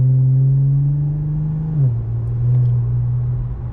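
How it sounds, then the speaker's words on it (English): A 2018 Infiniti Q50 with a muffler delete and AEM intakes, heard from inside the cabin with windows up, droning deeply under mild acceleration, with a clear drop in pitch at a shift before settling into a steady low rumble. "you get to hear the engine a lot better"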